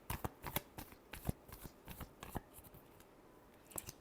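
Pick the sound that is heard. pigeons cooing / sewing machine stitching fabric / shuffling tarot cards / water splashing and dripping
shuffling tarot cards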